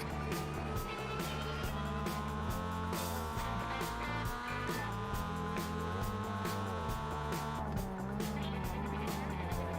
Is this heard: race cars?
yes